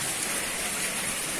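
Heavy rain pours steadily at a high school in Ajibarang, a dense, even hiss of drops striking surfaces with no pauses and no voices.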